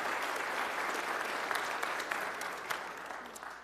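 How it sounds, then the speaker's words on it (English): Church congregation at a Palm Sunday service applauding, a sustained wash of clapping from a full room, gradually tapering with a few distinct claps standing out near the end. "So let's give them another round of applause."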